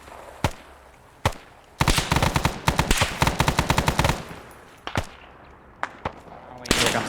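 Rapid automatic gunfire and scattered single shots ring out during an ambush in a strategy video game, with dense bursts crackling in the middle and sporadic shots before and after.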